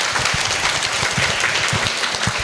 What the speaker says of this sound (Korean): 축복의 박수를 부탁드리겠습니다.